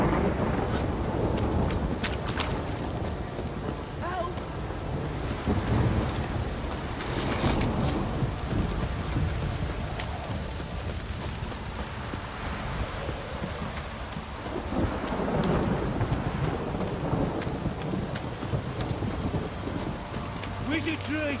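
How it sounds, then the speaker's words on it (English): Heavy downpour with rolling thunder in The Witcher 3: Wild Hunt, a continuous wash of rain with deep rumbles swelling and fading throughout, faint voices occasionally underneath. "this downpour's a bastard"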